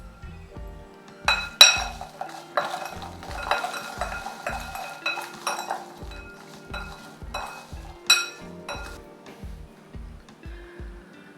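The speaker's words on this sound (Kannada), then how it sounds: "ನಿಮಗೆ ಎಷ್ಟು ಬೇಕು ಉಪ್ಪು ಖಾರ ಹಾಗೆ ರುಚಿಗೆ ತಕ್ಕಷ್ಟು ಮಸಾಲೆ ಹಾಕಿ ಚೆನ್ನಾಗಿ ಮಿಕ್ಸ್ ಮಾಡ್ಕೊಳ್ಳೋಣ" Hot cashew biscuits being tossed with salt, chilli and masala in a metal pan, giving a steady run of light clinks, scrapes and taps that tick along at an irregular rhythm, close and moderately loud, with no voices.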